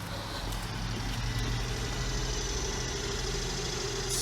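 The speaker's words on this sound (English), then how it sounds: "I bet it's gonna start right away, like it should, like with the first crank." A Mercedes engine with a long-crank fuel pressure leak fault runs with a steady, loud, even drone close by, with no talk over it.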